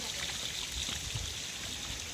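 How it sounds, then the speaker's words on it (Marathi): A small waterfall trickles and splashes steadily into a water tank outdoors, giving a continuous soft broadband rush of falling water with no voices. "इथून असा एक छोटासा धबधबा पडतोय"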